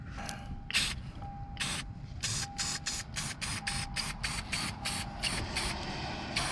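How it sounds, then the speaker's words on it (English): Rust-Oleum black spray paint being sprayed into a cut section of a Lexus RC F chassis wheel well, a series of short hissing bursts, some longer, in quick irregular succession close to the microphone. "Spray it with some Rust-Oleum black. All right, let's open this up. All I'm gonna do, just spray it in there."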